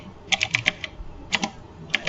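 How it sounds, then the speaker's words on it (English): Clacky keystrokes on a loud computer keyboard, struck in short bursts of several quick presses with pauses between, close and clear over a quiet room. "I am typing on my loud keyboard"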